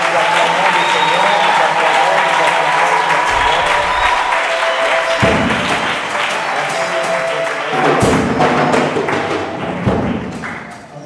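Rhythmic applause from a church congregation at a conference in Lubumbashi, steady and loud throughout, with heavy thuds and an amplified voice chanting over the clapping.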